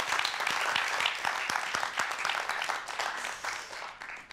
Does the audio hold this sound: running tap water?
no